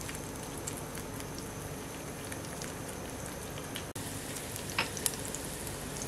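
Vegetables for white sauce pasta fry over a high flame, a dense rain-like sizzle that runs steadily and close, briefly cut off once, with a few faint pops near the end.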